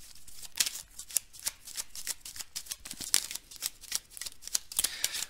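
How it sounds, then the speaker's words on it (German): A deck of tarot cards being shuffled by hand, a rapid run of crisp riffling bursts and soft flutters repeating steadily, close and fairly quiet with no talk. "ich mische jetzt einfach hier nochmal 8 Karten dazu"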